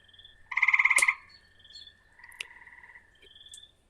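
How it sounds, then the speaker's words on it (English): Frogs and toads croaking at a backyard pond in spring, a loud close burst of rapid pulsed trilling followed by softer scattered chirps and croaks, with faint insect calls in the background. "the frogs are chirping. The toads are mating."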